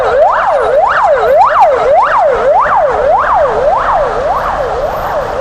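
Ambulance siren in a wintry Moscow street, a loud, close wail that rises and falls in quick, regular cycles, about eight of them, pressing on without a break.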